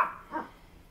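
A dog gives a single short, fairly faint bark at the start, with a softer second yelp a moment later, heard indoors with no talking.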